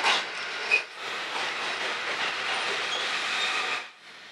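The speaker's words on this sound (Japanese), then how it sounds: "リゾート白神1号まもなく出発です。" A Resort Shirakami sightseeing train on the Gono Line rumbles and hisses steadily at a station, with a brief sharp squeal near the start, then the noise fades out toward the end.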